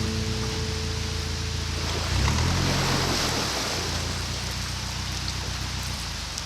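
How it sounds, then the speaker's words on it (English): Steady rain hissing down on a narrowboat, close and continuous, with a low engine rumble underneath that swells briefly partway through. "it's started to rain a bit now"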